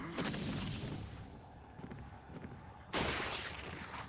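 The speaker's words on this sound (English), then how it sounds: "Flashbang." A flashbang grenade goes off in the Resident Evil 4 VR video game, a loud broadband burst landing abruptly near the end amid ongoing game noise and earlier gunfire-like booms.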